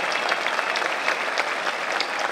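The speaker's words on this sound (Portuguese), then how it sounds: "Então eu quero uma salva de palmas para esses companheiros" Crowd applause at a union rally in São Bernardo: brisk, even clapping from a large gathering, steady throughout with no speech over it.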